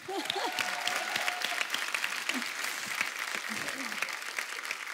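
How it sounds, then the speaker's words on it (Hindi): A studio audience at a Hindi comedy show claps steadily for several seconds, a dense bright patter of hands with a voice speaking over it at the start. "अंकल के लिए जोरदार ताली हो जाए।"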